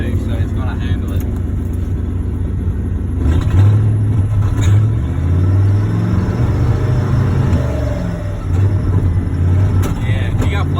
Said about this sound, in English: That motor ain't having it, but it's a 302, so it's going to handle it.